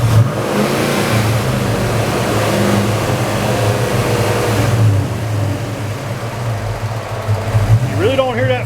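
Parked car engine revved up and held steady while the fan clutch is checked for engagement, a loud continuous mid-pitched engine drone rising and settling, with a brief squeal near the end.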